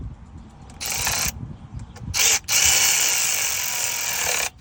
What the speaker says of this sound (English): We're just gonna snug up these bolts